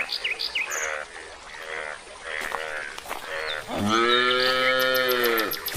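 A cow moos loudly and close by in a long, drawn-out call, preceded by shorter lowing sounds and some bird calls.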